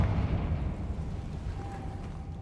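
Confringo blasting spell in Hogwarts Legacy, a deep rumbling blast with a low boom that decays into a sustained roar, loud and close.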